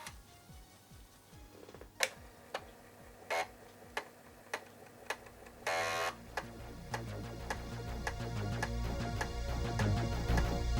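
An Amiga floppy drive mechanism runs after its worm wheel has been greased, giving off a faint, irregular series of sharp ticks and clicks, a brief buzzing whir, and a low mechanical rumble that builds toward the end.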